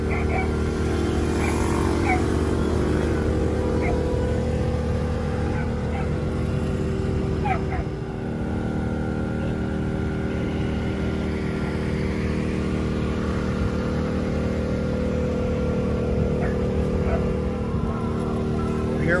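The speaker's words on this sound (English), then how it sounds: "How about a 1972 S2 350 triple? Let's go." A 1972 S2 350 triple two-stroke motorcycle runs steadily throughout, a loud close engine drone that holds without letup across the whole stretch.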